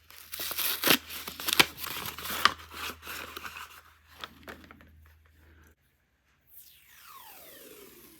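Crinkling plastic wrap on a package of washi masking tape being opened, with several sharp crackles and rustles up close, easing off into near silence before a faint swishing at the end.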